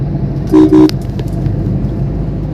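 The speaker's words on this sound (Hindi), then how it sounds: "अगर मैं इस ऑटो को ओवरटेक कर रहा हूँ तो मुझे हॉर्न भी देना है" A car horn honks twice in quick succession, loud and near, while passing an auto-rickshaw in dense city traffic, with steady road noise and engine rumble continuing around it.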